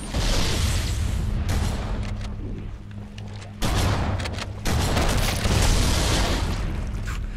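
A grenade blast in the video game Halo CE Anniversary, heard as loud, dense booms and bursts of gunfire that roll on without a break, with a brief dip partway through.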